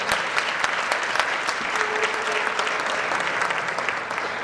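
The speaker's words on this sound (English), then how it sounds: "let's give her a round of applause." Enthusiastic applause from a crowd at a gala fills the room with dense, steady clapping that holds at an even level throughout.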